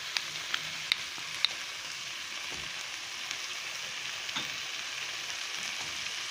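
Soybean curry with turmeric powder being stirred in a pan, a soft steady sizzle with a few faint clicks of the spoon, quiet and close.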